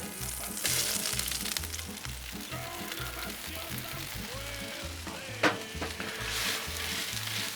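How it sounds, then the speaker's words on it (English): Hash browns hit a buttered Blackstone griddle and fry with a steady crackling sizzle, accompanied by a low rhythmic background thump and a sharp scrape near the end. "Throw these hash browns on."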